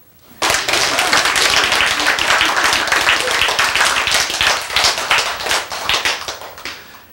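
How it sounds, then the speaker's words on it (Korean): A church congregation applauding, dense rapid clapping that starts abruptly, stays loud and close, then thins out and fades toward the end. "박수."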